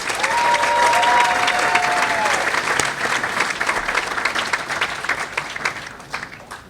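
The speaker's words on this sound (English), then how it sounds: "Let's give a round of applause for the class of 2025, our newest inductees." Audience at a high school Hall of Fame ceremony gives the newly inducted class of 2025 a sustained round of applause. Dense clapping that is loud at first and gradually thins and fades, with a brief voice over the early part.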